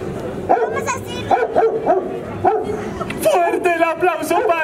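Puppet show voice imitating a small dog, a series of yappy barks and whimpers in quick bursts, close and loud, mixed with laughter and talk.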